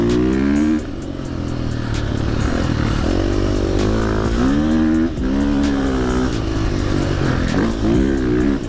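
Motocross motorcycle ridden through desert sand in Dubai, its engine revving loud and close with rising and falling pitch as the rider accelerates and eases off, steady throughout with no talk.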